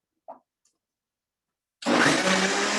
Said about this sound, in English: I'll get it blending here.